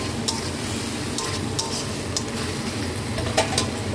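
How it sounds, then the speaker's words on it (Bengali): Bitter gourd stirred into a half-cooked spiced masala with sugar and sour yogurt in a pan, giving a steady sizzle with scattered scraping clicks of a spoon through four seconds, no talking. "এবার এই করলাটা দিয়ে এবার কষবো আবার ভালো করে"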